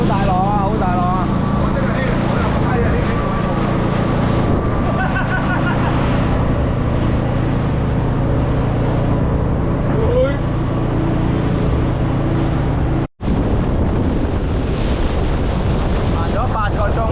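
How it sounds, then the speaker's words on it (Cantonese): Big sea waves crash against a fishing boat on an open-sea trip off Bintulu, with loud, constant wind-buffeted rushing and rumbling and a brief dropout. Voices call out over the roar. "好大浪啊！"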